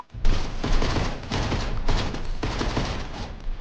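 Rapid shotgun blasts from a video game shooter rip out in a loud, dense volley, several booming shots in close succession with heavy low rumble, alone without talk.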